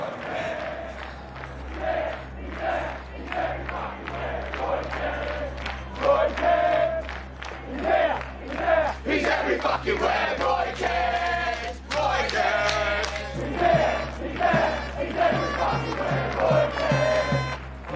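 A football stadium crowd chants a rhythmic song for Roy Kent, many voices swelling and falling in repeated phrases, with cheering and scattered applause underneath.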